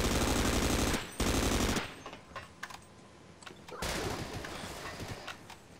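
An MP5 submachine gun fires in the video game Half-Life: Sven Co-op: a loud, rapid burst lasting nearly two seconds, a quieter pause with scattered clicks, then another sustained volley near the end.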